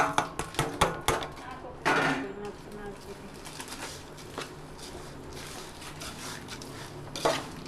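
Spoon scraping and clanking against a pan as a sukhdi mixture of ghee, jaggery and spices is stirred, several close metallic knocks early and later, with quieter stirring in between.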